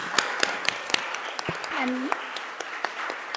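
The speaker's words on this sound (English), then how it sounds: "Round of applause." Applause at a Columbus City Council meeting, sparse and scattered clapping with distinct individual claps, while a voice briefly speaks over it.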